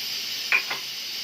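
Chopped onions tipped into a pan of chicken tikka karahi, giving a brief sizzle with a couple of quick stirring scrapes over a steady background frying hiss, close and fairly quiet.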